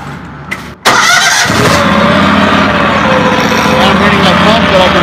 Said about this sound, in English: I'm going to start up one engine,